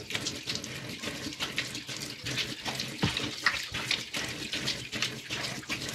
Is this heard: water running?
yes